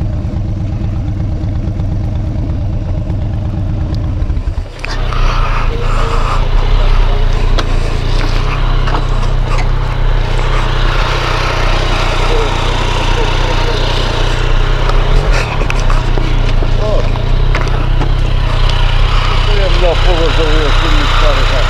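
Small motorcycle idling while being parked, a steady low engine rumble that turns rougher and busier partway through and continues throughout, with people talking over it.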